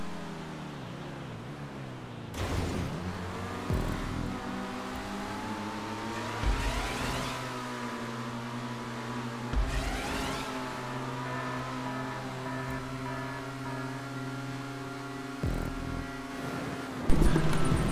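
Game car engines in GTA 5 Online drone steadily and rev up and down over a multi-layered hum, with sharp bursts and shifting pitch sweeps as vehicles accelerate, and a louder surge near the end.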